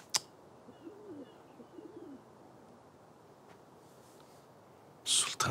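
Pigeons coo in a courtyard setting, a few soft, low, rolling calls early on, fairly distant and faint over quiet background, followed by a sharp click and a brief loud rustle near the end.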